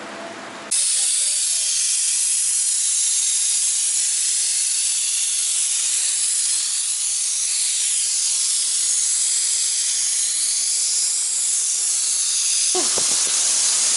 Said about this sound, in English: They steam every seam of the seat to disinfect and clean it